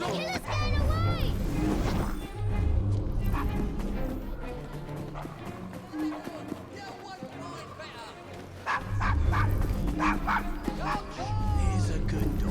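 A dog in the video game Assassin's Creed Syndicate barks, yips and whimpers in repeated short bursts, fairly close, mixed with game effects and voices talking in between.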